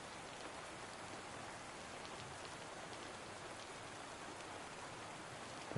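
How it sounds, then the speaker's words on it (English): Steady rain falls outdoors, a dense, even hiss of drops on surfaces that holds constant for several seconds with no voices. "I know I'm going back outside where it's raining"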